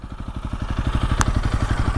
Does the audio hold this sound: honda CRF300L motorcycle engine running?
yes